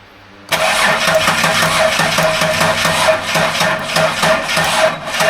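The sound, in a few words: L67 V6 engine cranking during compression test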